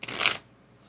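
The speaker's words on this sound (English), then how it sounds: "I guess I could draw cards while I'm here" A single quick riffle of cards drawn from a deck during a tabletop miniatures game, a short papery flutter lasting under half a second, followed by near silence.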